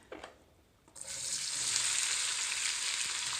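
Onions tipped into hot butter and oil, a brief soft clatter followed by a sudden, loud, steady sizzle that holds evenly to the end.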